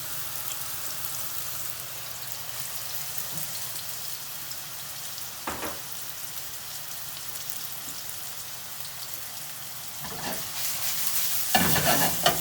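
Aubergines frying in a pan with a steady sizzle, interrupted now and then by brief scraping stirs that grow busier toward the end.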